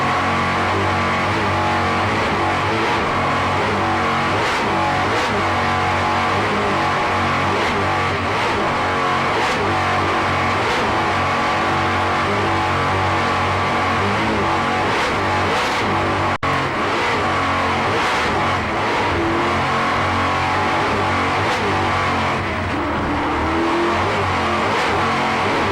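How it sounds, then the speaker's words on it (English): Kurtz Marine engines roar on racing boats at the Key West World Championships offshore powerboat race, a loud sustained mechanical drone with revving swells and passing surges throughout. "Just listen to those Kurtz Marine engines"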